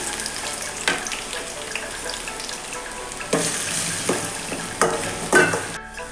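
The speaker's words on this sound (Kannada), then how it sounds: "1 ಟೊಮೆಟೊ ತಗೊಂಡಿದ್ದೇನೆ. 4 ಹಸಿಮೆಣಸಿನಕಾಯಿ ಇಷ್ಟನ್ನು ಫ್ರೈ ಮಾಡಬೇಕು ಚೆನ್ನಾಗಿ." Tomato and four green chillies frying in a pan for a simple alasande palya, with a steady sizzle and several scraping stirs, close and moderately loud, no speech.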